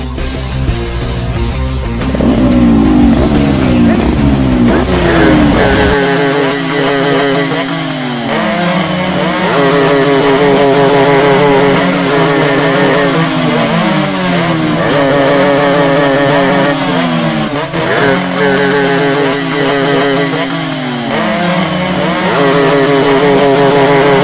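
Motorcycles rev hard and ride off, several engines snarling and shifting pitch through the gears as they pull away, with loud, sustained overlapping whines and no talking.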